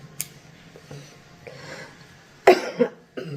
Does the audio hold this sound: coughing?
yes